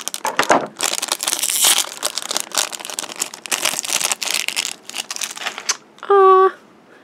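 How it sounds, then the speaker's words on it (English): Crinkly plastic packaging from a toy pacifier rustles and crunches close up for several seconds, with short snipping sounds as scissors cut through, ending in a brief tonal squeak. "Well, I guess I'm cutting it with scissors then."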